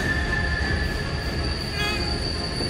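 An animated train brakes to a halt, its steel wheels letting out a sustained high metallic squeal over a heavy rumbling roar, loud and close, with no speech.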